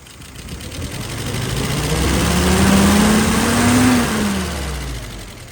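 A car engine fitted with a newly adjusted Carter WO 596S carburetor revs smoothly up, holds, then settles back down to a steady idle. The sound is close and loud, with no stumble and no speech.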